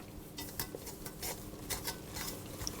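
Bread dough ingredients for Swedish griddle bread stirred together with a Danish dough whisk, giving close, soft scraping and clinking against the bowl in uneven strokes, with no one talking.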